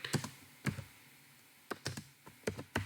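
A computer keyboard being typed on to write a code query, heard as short bursts of crisp key clicks separated by brief pauses, close and fairly quiet.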